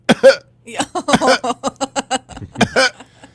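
A voice imitates a baby's fake cough-cry, a string of about a dozen short, choppy hiccuping bursts in a steady rhythm, close and clear with no other sound around it.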